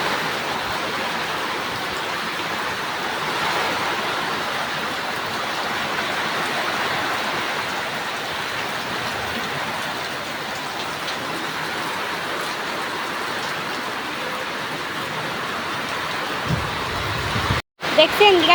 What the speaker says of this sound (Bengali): এখন দেখছেন বৃষ্টি হওয়ার সাথে সাথে সবার শরীর ঠান্ডা করে দিয়ে